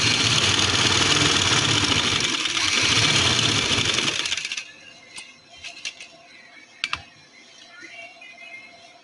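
A sewing machine stitching lace onto the neckline of a printed suit, running steadily for about four seconds, then stopping, followed by quiet handling clicks and taps.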